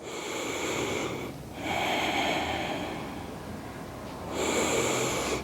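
Slow, deep breaths during yoga locust pose (shalabhasana), each a long airy inhale or exhale close to the mic with brief pauses between, no talking.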